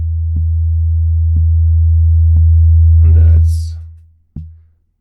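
A Zoia physical-modelling percussion synth patch feeds back on itself: a loud steady low tone sustains under periodic clicking hits, with a brief noisy swell near the end before it cuts and one final hit decays.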